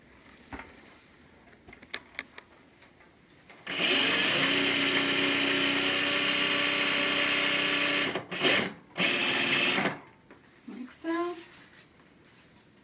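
Sewing machine stitching bias tape along the edge of a fabric mask: a loud, steady motor whir for several seconds, then short stop-start bursts, with a voice talking briefly near the end.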